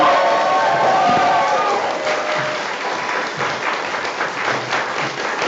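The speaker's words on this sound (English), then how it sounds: "one final big round of applause for Splat Vibes Volume 4" Applause and cheering fill a Splatoon 3 LAN tournament hall, loud and steady throughout, a dense wash of clapping hands with shouts mixed in.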